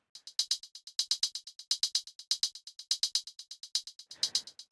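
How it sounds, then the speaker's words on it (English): Crisp hi-hats in a beat, a fast, steady pattern of bright ticks with periodic accented hits, played alone with a brief noisy swell near the end. "Then I added additional hi-hats."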